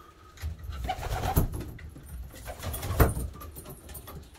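Pigeons coo softly in a loft, a few low murmuring calls rising around the middle and again near the end, faint and close, with light rustling and clinking in the background.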